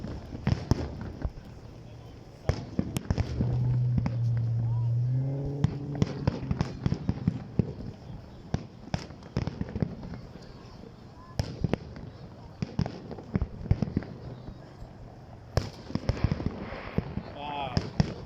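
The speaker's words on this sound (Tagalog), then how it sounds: "Fireworks muna tayo dyan." Fireworks display at Global Village in Dubai in 2023: sharp scattered bangs and crackles go on throughout, some loud and some distant, with people talking and exclaiming in between.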